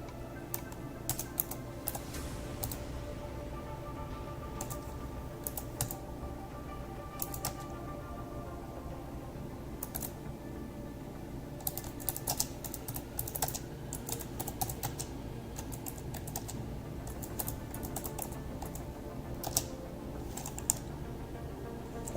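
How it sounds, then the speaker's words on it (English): A computer keyboard clatters under quick, irregular typing, with bursts of keystrokes and brief pauses, close and fairly quiet against a faint background hum. "I hate typing."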